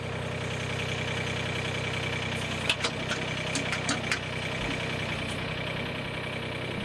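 A backhoe engine idles with a steady, continuous mid-pitched drone throughout, with a few brief metallic clanks rising over the hum partway through.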